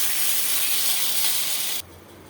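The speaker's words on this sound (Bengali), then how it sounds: "পেঁয়াজটা ভাজা হয়ে গেছে, এবার উচ্ছেটা আমি দিয়ে দিচ্ছি" Bitter gourd and fried onion sizzling in a pan, a loud steady hiss up close that cuts off abruptly near the end.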